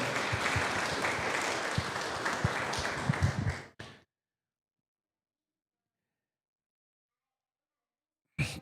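Audience applause at a women's football club squad presentation in Andahuaylas, a dense patter of clapping lasting several seconds before stopping abruptly, then a brief burst returns at the very end.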